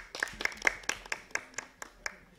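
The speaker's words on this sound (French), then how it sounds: "Très bien. Applaudissez pour elle." A classroom of students applauds a classmate with a handful of scattered, separate claps in an uneven rhythm, fairly quiet and with no voices over them.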